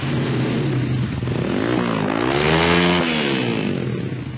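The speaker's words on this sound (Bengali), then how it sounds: "আমি স্টার্ট দিয়ে সাউন্ড শুরু করতে পারি" A used motorcycle's engine runs loud and close, idling with a steady throb before revving up into a rising whine and then easing back down.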